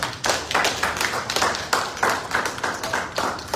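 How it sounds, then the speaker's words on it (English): A small audience claps for an interview guest, a brisk burst of hand claps with distinct beats that carries on evenly for a few seconds at moderate volume. "Can we clap for him?"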